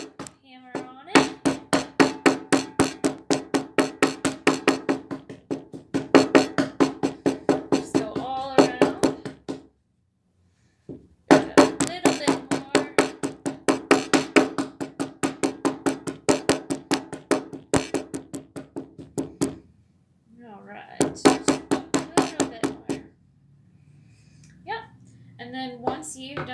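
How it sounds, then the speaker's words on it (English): Steady, rapid knocking taps repeat in long bursts with brief pauses between, a close, dull pounding of a hammer on chalk inside a folded tablecloth. "Hammer on it."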